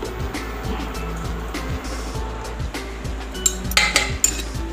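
Dishes and cutlery clinking as rice is served in a home kitchen, with repeated light clanks and scrapes of metal and ceramic and a few sharper clinks near the end, close by and alone.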